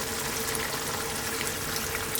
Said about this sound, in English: I'm actually just going to add a little touch more water here